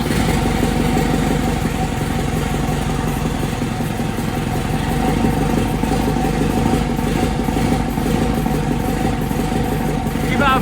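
A Sanderson 726 engine runs steadily with a rough, mid-pitched motor drone and a rapid firing rhythm, loud and close throughout, with some background noise.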